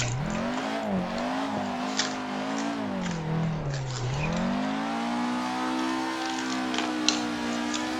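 A low-powered car drifting in Assetto Corsa, its engine revving up and down through several swells with a dip around the middle, steady and close with faint tire noise and no speech.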